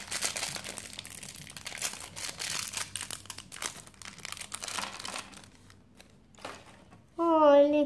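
A crinkly plastic zip bag holding an LOL Surprise toy rustles and crackles up close in bursts, before a short stretch of quiet and then a loud closing tone.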